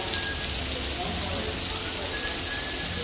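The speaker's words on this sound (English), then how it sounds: "I think by this rain it'll be knackered now." Steady, dense thunderstorm rain hissing evenly throughout, with no let-up and no other sounds standing out.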